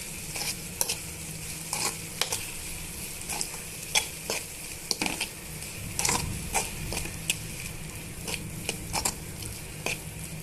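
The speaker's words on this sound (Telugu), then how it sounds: "ఒక half table spoon curry masala add చేసేసుకొని ఇవన్నీ కూడా బాగా మిక్స్ చేసుకోవాలి" A spoon scrapes and clinks against a pan at irregular intervals while potato curry with curry masala sizzles softly underneath; the stirring is close and fairly quiet, with no talking.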